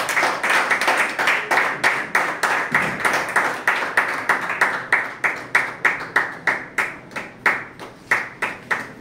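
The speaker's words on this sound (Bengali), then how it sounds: "জোরদার করতালি হোক।" Audience clapping after a trophy presentation at an achievement ceremony, starting as a loud mixed applause and settling into rhythmic, evenly spaced unison claps that gradually slow and thin out.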